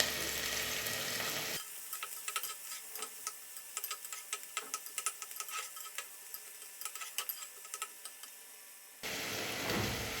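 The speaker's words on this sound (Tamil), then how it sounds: "எண்ணெய் சூடானதுக்கப்புறம் நம்ம நறுக்கி வச்சுருக்கக்கூடிய வெங்காயத்தை ஆட் பண்ணிக்கலாம்." Steady crackling sizzle of onions frying in hot oil, with scattered pops and light stirring clicks, close up and without voices.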